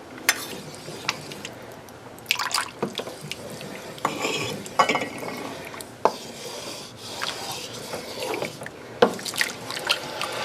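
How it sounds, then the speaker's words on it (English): A spoon stirring sauce thickened with cornstarch water in a pot: soft scraping, clinks against the pot and light liquid sloshing in irregular strokes, close and fairly quiet, with no talk. "Let me just give it another stir."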